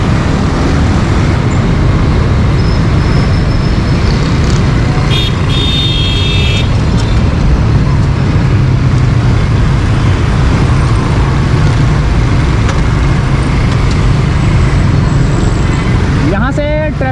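Dense, loud road traffic with cars, buses and trucks running steadily close by along a road diverted around the Red Line bus project construction at Gulshan-e-Iqbal, a continuous roar with no break; voices talk now and then beneath it.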